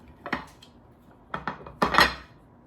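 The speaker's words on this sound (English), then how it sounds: "you're just gonna give it a quick flip and a little bit of a shake" A plate is flipped over a lemon bundt cake pan and shaken, giving a few close clattering knocks of metal and ceramic, then a louder rattling burst.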